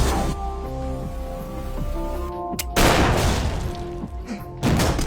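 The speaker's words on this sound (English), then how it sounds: "Then, gunfire." Gunfire erupts in a tense police confrontation inside a house, with loud broadband shot blasts, one near the middle and another near the end, over a droning tonal background.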